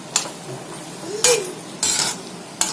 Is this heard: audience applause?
no